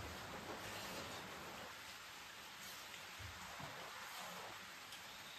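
Steady rain falls outside a Nepali village kitchen, a broad continuous hiss that fills the clip at low level, with faint thumps and clatter close by and no talking.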